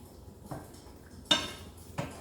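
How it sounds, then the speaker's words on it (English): A utensil scrapes and clinks against a pan while heavy whipping cream is stirred into a mushroom sauce, with three distinct metallic knocks over a quiet background, close and fairly soft. "Let's see how that looks after I stir it."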